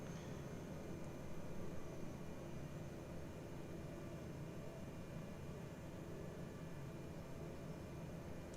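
An aircraft engine spools up in Microsoft Flight Simulator, giving a steady, even roar with no change in level and no talk.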